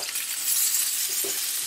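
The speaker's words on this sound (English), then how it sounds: "most of the water's evaporated out and that leftover oil is now crisping" Dumplings crisping in leftover oil in a pan after the steaming water has cooked off, a steady broadband sizzle with a few faint clinks, heard alone and fairly close.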